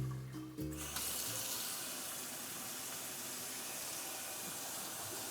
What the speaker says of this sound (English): some water coming out